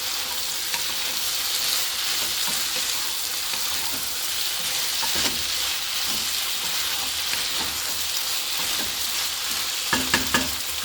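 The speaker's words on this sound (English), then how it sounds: "Just give it a nice stir" A vegetable stir fry with soy sauce, chili sauce and sweet chili sauce is stirred in a hot pan: a steady, close sizzle with occasional sharp scraping clicks of the utensil, and no voices.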